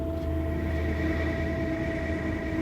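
A Minecraft train rumbles past on a high trestle in the Appalachian mountains, a loud, steady mechanical drone with sustained tonal hum and no breaks.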